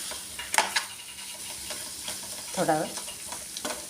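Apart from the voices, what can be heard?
boiled eggs frying in masala in a pan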